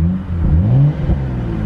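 BMW 435i with custom valvetronic axle-back exhaust in comfort/eco mode, a short muted rev that rises and falls once, close and fairly loud yet stock-sounding.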